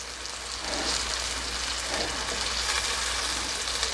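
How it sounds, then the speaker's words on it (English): Lobster tails and scallops searing in a hot pan, a steady close sizzle and crackle that rises after a brief quieter start and holds throughout. "Give it a nice little sear."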